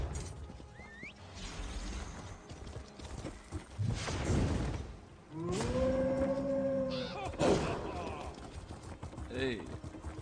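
Horse mount in Elder Scrolls Online, its hooves clip-clopping over the ground under ongoing talk, with a tonal, whinny-like call rising briefly near the middle.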